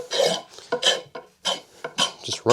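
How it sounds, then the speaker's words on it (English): The square spine of a knife scrapes varnish off a cheap wooden axe handle, loud close rasping strokes repeated about seven times in an uneven rhythm with short gaps. "You can take a knife if you've got a nice 90-degree spine on your knife and just run it"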